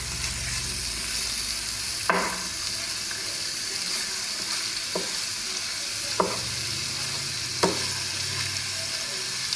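Sausage fries in a pan with crushed red pepper, a steady bright sizzle close by, while a utensil scrapes through it now and then to break up the meat.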